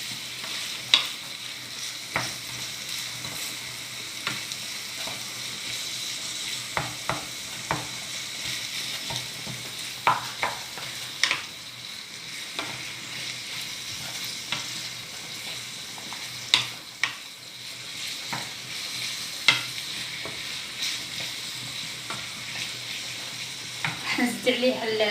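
Minced meat fries and is stirred in a pan, giving a steady sizzle with repeated scraping and clacking of the utensil throughout. There are no voices.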